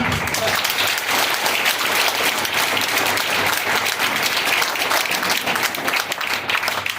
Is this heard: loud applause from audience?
yes